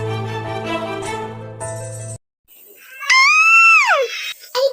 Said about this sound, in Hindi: इतनी कसके क्यों चीखी?